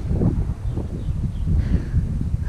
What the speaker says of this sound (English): if it wasn't for the wind, it would be a really lovely day up here today